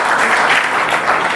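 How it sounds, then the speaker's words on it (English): An audience at a conference panel on mobile malware and cloud computing breaks into a brief burst of dense, even clapping, loud and close throughout. "It's actually pity that everyone applauded that."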